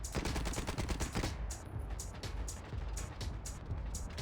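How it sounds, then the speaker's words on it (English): Rapid bursts of gunfire from the World War 1: Firestorm video game, a dense rattling volley at first, then sharper separate shots spaced out, loud and close. "Let me see if you can make a tree collapse with bullets."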